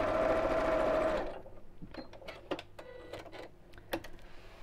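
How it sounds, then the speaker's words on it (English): A domestic sewing machine stitches a fabric seam along a quarter-inch line, whirring steadily and close for about a second before stopping, followed by faint clicks and fabric handling. "following the quarter of an inch line on my machine. My seams just got squished open as I'm sewing"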